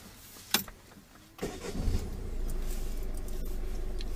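A Renault car engine cranks briefly after a couple of clicks and catches, then settles into a steady, close idle, with no talking.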